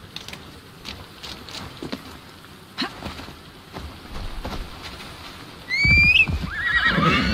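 A horse in the video game Assassin's Creed Valhalla: hooves patter softly at first, then a loud, close neigh rises near the end over the continuing footfalls.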